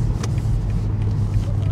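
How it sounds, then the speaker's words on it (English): A deep, steady engine rumble from a 2024 BMW M4 Competition Convertible's exhaust in race mode drones throughout, loud and close, with no talking. "The exhaust note is pretty special."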